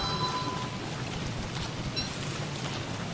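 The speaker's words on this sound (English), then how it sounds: "Rain. Almost getting hit by lightning." Steady rain falls in the survival video game Don't Starve, a continuous soft hiss with a low rumble that holds evenly throughout with no voices.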